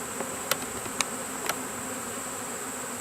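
A honey bee swarm hums steadily as the bees walk up over plastic into a hive, a close, continuous insect buzz broken by a few faint clicks.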